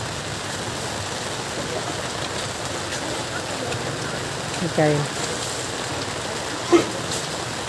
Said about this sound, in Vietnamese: Mưa luôn rồi trời.